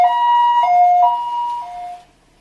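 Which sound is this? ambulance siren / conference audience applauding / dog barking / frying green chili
ambulance siren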